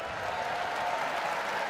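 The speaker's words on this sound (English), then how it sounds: "The crowd's already excited for the Barbet tonight" A crowd at the Westminster Kennel Club dog show applauds steadily for a Barbet, the clapping dense, loud and sustained throughout without pause.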